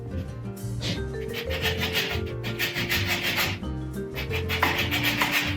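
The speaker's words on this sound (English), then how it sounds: "And then we do the zest of half a lemon. I love this zester." Half a lemon scraped against a hand zester in steady, close rasping strokes that repeat rhythmically, with no talk.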